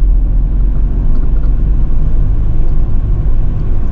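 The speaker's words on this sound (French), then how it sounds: "Ouais, elle a des ratés quand même, cette voiture." A Toyota Aygo's engine runs loud and close with a rough, uneven low rumble, the idle stumbling with misfires over a steady drone and no voices.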